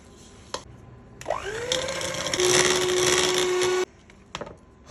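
An electric mixer whirs steadily for about two and a half seconds, beating sugar, vanilla and batter to a creamy texture, with a clear motor tone that starts and stops abruptly.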